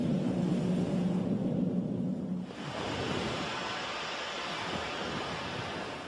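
Ocean waves surging into a coastal wave-energy chamber that drives a Wells turbine, a loud broadband wash that swells continuously, with a lower rumbling rush in the first seconds giving way to a brighter hiss.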